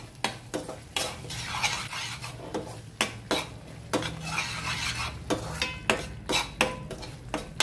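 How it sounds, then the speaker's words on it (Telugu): A spoon stirs paneer tomato curry in a pan, making repeated scraping clinks at a steady rhythm over a soft background sizzle, close and clear, with no talking. "ఎప్పుడు ఈ కూరనైతే ఎప్పుడు కలుపుతూనే ఉండాలి."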